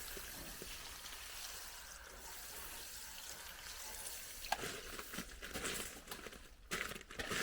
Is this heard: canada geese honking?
no